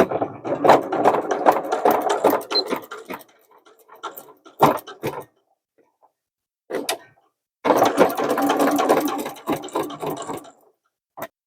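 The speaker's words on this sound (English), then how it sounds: "once the D-ring's on there, I sew this" A sewing machine stitches a denim tote made from upcycled jeans, running in close, steady bursts with short pauses and a longer stop before it starts again.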